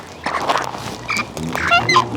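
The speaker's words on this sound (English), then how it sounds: "Listen to that WD-40 bird squawking, squeaking." Pet bird squawking and squeaking in short, bright bursts close by, with a few quick chirps and a whistle-like squeak toward the end.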